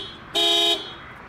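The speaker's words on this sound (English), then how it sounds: "To activate the panic alarm, you press and hold the red button." A Toyota RAV4 XLE SUV's horn sounds once in a short, loud, steady blast as the panic alarm triggers, then cuts off into quiet.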